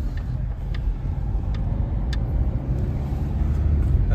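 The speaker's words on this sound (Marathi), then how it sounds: "आता हे आकाश गाडी चालवतो ना" A car being driven, its engine giving a steady low hum and road rumble for a few seconds, with a few faint ticks above it and no talking.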